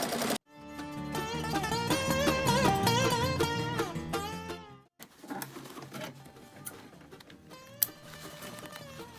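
A home sewing machine runs in a steady mechanical whir, stitching back and forth over velcro with brown thread, then stops and gives way to softer, scattered handling sounds nearby.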